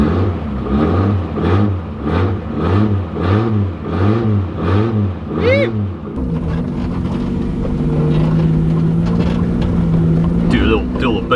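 A Nissan RB30 engine in an R31 Skyline revved in a run of about seven rhythmic, repeated blips, then settling into a rougher sustained idle and rev, loud and close, with someone talking over it.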